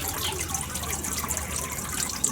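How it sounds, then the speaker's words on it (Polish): Water sloshing and trickling close by as a 21 kg carp is slipped back into a lake, a steady wet churn with small drips and no distinct single splash. "szybciutko i rybka idzie do wody"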